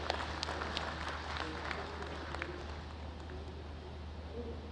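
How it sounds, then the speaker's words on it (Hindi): Audience applause fills a seminar hall on a Defence Corridor event in Lucknow, a steady dense wash of clapping held at even loudness throughout, with no talk over it. "अब इस पर भी तो ताली बजनी चाहिए।"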